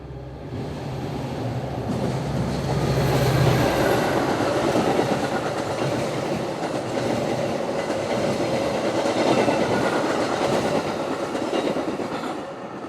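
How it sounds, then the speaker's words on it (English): A nonstop Metra commuter train in Chicago's western suburbs crosses a switch crossover from main 1 to main 2, passing as a loud, steady rumble with clickety-clack of wheels over the track for the whole stretch. "It was switching from main 1 over to main 2."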